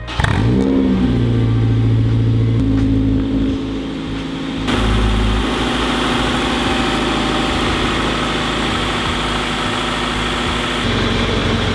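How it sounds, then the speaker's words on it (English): A Honda Civic Type R EP3 engine with an exhaust leak runs loud and close, revving at the start and then holding a rough, steady idle with a raspy, puffing edge, no voices. "I have a feeling that I've got an exhaust leak"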